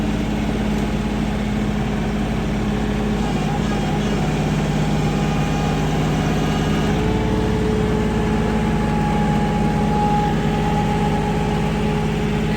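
A tractor engine idles on sloped farmland with cattle nearby, a steady, close low drone that runs unbroken and without talk.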